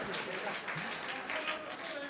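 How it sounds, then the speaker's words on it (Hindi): Applause from a mushaira audience, a steady dense wash of clapping hands throughout, moderately loud and filling the whole moment, with a voice heard faintly beneath it. "थोड़ी और तालियां बजा दीजिए"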